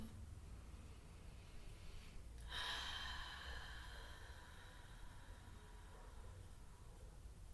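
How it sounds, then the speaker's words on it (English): A single slow breath, a soft nasal inhale followed by a longer, audible exhale through the mouth, quiet and close over a faint steady hiss, no talking. "Take a breath in through your nose and out through your mouth."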